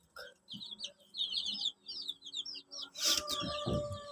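Baby chicks in a backyard chicken farm pen peep in quick, high, repeated chirps, close by and overlapping, with a brief clattering burst partway through before the chirping resumes.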